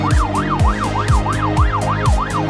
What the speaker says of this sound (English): sirens match the European or North American theme of your city